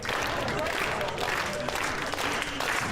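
A college men's tennis crowd at a Baylor versus Texas match claps steadily and densely, a sustained wash of applause with a commentator talking over it.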